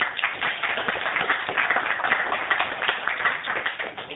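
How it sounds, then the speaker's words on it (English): An audience claps after a physics lecture on reactor-accelerator coupling experiments, a steady, even patter of many hands at moderate volume with no talk over it, sounding slightly muffled and narrow in tone. "Let's give him a round of applause."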